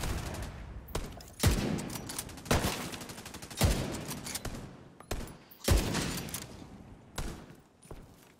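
Machine gun fire in the video game The Division 2, several sharp bursts of rapid shots spaced a second or so apart, moderately loud, with the game's background ambience between bursts.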